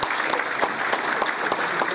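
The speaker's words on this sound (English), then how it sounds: "let's just give our celebrities a round of applause" A short burst of steady audience applause for celebrities at a charity golf day, even and continuous from start to end with no talk over it.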